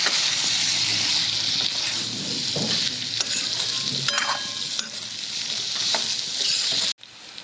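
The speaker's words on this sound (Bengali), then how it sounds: "এবার দিয়ে দেবো ভেজে রাখা পেঁপেগুলো নেড়ে চেড়ে আরেকটু কষিয়ে নেব" Fried papaya pieces stirred into spiced masala in a pan while making a vegetarian papaya-potato curry, a steady close sizzle with scraping stir strokes throughout, briefly cut off near the end.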